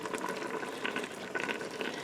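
Corned beef and cabbage simmering in a pot of water after about an hour of cooking, giving a steady close bubbling and hissing boil with small liquid pops throughout.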